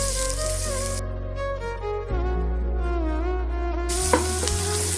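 Chopped ginger and garlic frying in oil in a pan for restaurant-style chicken fried rice give a loud, steady close-up sizzle with stirring scrapes throughout.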